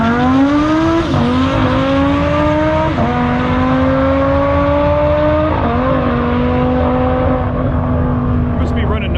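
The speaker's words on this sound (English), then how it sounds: "Got a little scratch out of the tires, but it's all-wheel drive, so you're not going to see a big smoky burnout." An Audi R8 V10 launches hard at a drag strip, loud revs climbing through several gear shifts that each drop the pitch before it rises again, with a little tire scratch at the start.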